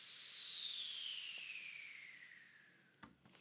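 The iconic Third Party sweep effect made in Ableton, a bright whooshing downward sweep with tonal lines gliding from high to lower pitch, fading steadily and followed by a couple of faint ticks, no voices.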